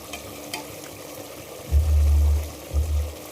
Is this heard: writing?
no